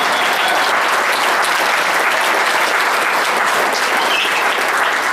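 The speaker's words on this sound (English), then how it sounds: "Big round of applause for these people" A large audience gives sustained, loud applause for military veterans standing in the room, dense clapping holding steady for several seconds without pause.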